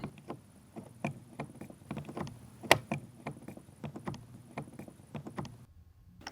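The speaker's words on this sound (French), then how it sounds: "Vous insérez les petites roues ici. Ça se clipse." Small wheels are fitted and clipped onto the underside of a plastic airline dog travel crate. Repeated light plastic clicks, taps and rattles come close by in an irregular rhythm, then stop abruptly near the end.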